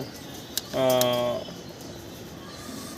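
A single drawn-out, tonal coo from a lavender Chuachandan male pigeon rises clearly over a quiet background, followed by faint ambient noise.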